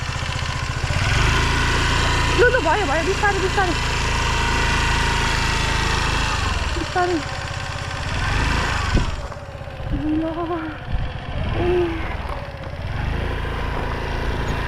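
A motorcycle engine drones steadily on a rough mountain road, with a harsh scraping burst near the middle as the silencer scrapes the ground, while people talk over the running motor.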